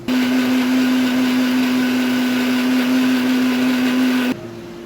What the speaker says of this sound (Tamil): இது எல்லாம் மிக்சியில் அரைக்கணும்.